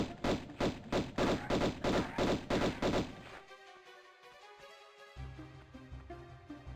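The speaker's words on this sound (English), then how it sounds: "I'm just gonna stand here and shoot it." Gunfire in Tomb Raider Remastered, a rapid regular burst of about ten loud shots over three seconds, then quieter game ambience with rumbling.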